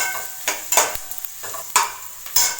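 Onions frying in a pan with a little rock salt for South Indian masala tomato rice, with several sharp scraping stirs of a utensil in an irregular rhythm over a soft sizzle.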